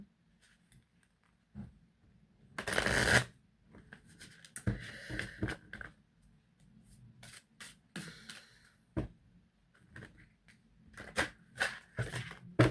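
Oracle cards are shuffled by hand, giving soft, faint riffling and brushing bursts in uneven spurts with quiet gaps between them in a quiet room.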